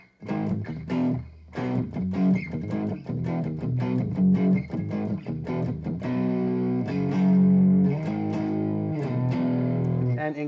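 A Grote semi-hollow-body electric guitar plays through heavy distortion, with choppy strummed chords and short rhythmic stabs that give way to sustained ringing chords, loud and close with no talking.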